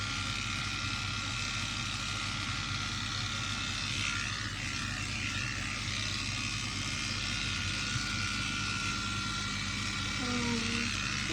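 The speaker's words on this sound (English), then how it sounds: "My clippers are loud." Steady, loud electric buzzing from dog grooming clippers trimming a puppy runs continuously and close, with a constant mechanical hum throughout.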